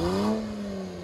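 A Hyundai engine revs hard in reverse during donuts, a loud, steady mid-pitched drone that holds close for a moment with no voices over it.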